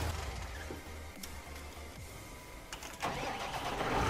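A vehicle engine in Farming Simulator 19 starts and runs at a low idle, then swells louder near the end, heard close with no talking.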